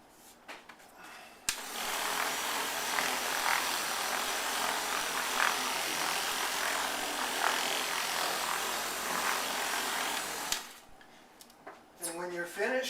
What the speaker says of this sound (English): Turn on your buffer. Just let it spin.